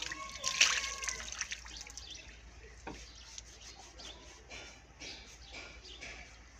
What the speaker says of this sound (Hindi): दोनों हाथों से एक चुल्लू भर के अच्छी तरह चेहरे पर पानी डालकर चेहरे को मल लेना है